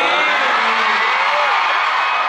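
Fans cheering at a concert fan event, a loud sustained wall of screams and whoops from a big crowd, with a shrill voice rising and falling above the roar.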